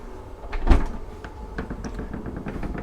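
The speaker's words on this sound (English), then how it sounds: "Another watertight door here." A watertight door aboard a 43-metre Columbus Atlantique superyacht slides open in one close mechanical movement with a thump near the start, followed by a steady low running hum.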